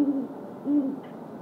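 A male great horned owl gives two low, resonant hoots about half a second apart, moderately close and alone against quiet background hiss.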